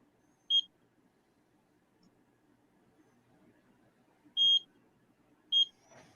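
Small electronic device, a wire-connected unit with a push button, giving three short, sharp high-pitched beeps spaced apart in a quiet room, with faint background murmur and a brief soft noise at the end.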